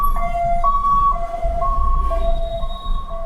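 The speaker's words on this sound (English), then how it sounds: "Ambulance." Ambulance siren wailing on the road, a loud two-tone pattern alternating steadily, with traffic rumble underneath.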